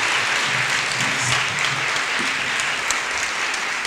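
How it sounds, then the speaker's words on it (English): A university audience applauds after a talk at Longwood University, giving steady, dense clapping throughout, loud and close, with no voices standing out. "We have a round of applause for"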